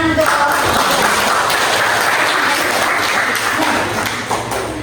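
Dense, steady applause from a seminar audience fills the room, loud and continuous with a slight dip near the end, with a voice faintly mixed in.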